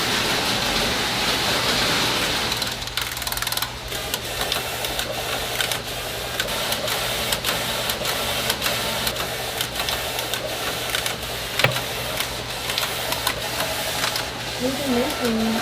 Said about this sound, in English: that's a knitting machine